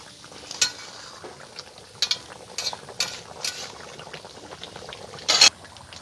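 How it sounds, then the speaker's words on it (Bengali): A pot of water at a rolling boil with chicken in it gives a soft, steady bubbling hiss. A few sharper clatters and splashes from stirring break through now and then. No one speaks. "জলটা ফুটে উঠেছে"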